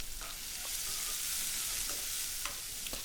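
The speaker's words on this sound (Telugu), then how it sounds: "ఒకసారి గరిటెతో కలుపుకొని రుచికి సరిపడా సాల్ట్ వేసుకోవాలి." Onion pieces frying in a pan as a ladle stirs them, giving a soft continuous sizzle with a few light scraping taps, close but fairly quiet and with no voices.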